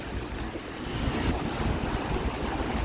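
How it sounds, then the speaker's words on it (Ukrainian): Rain pouring with gusting wind buffeting the microphone on a street in Chernivtsi, a loud continuous rush that swells slightly partway through. "лиє дощ"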